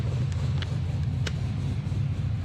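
A supercharged LS7 V8 idles in a VF Commodore, a deep, steady low rumble with a slightly lumpy pulse, heard close and alone.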